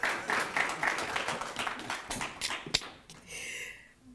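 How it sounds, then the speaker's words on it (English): An audience applauds a keynote speaker at a certificate handover ceremony, with steady clapping that fills most of the clip and then tapers off near the end. "A round of applause, ladies and gentlemen, to Ms. Stella Ndabeni."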